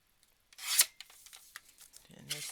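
Paper for a Christmas mini album being cut down to size, a quiet close series of rasping, rubbing strokes with a sharper scrape near the start and small crisp sounds after.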